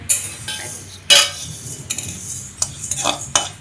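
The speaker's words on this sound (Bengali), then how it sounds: "কন্টিনিউয়াসলি এভাবে নেড়ে যেতে হবে, নইলে কিন্তু ডালগুলো পুড়ে যাবে" Dry lentils being stirred while roasting in a pan for homemade baby cereal: repeated close scraping and rattling strokes of a spoon against the pan, spaced irregularly, with no voice.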